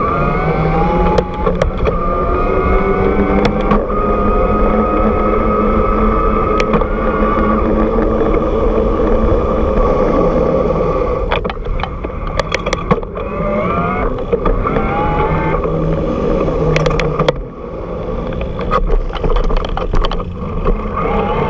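Cube Reaction Hybrid electric bike with 29-inch wheels ridden in turbo mode, heard as a steady, loud rushing of wind and tyre noise with a faint motor whine throughout, broken briefly by a few clicks and rattles.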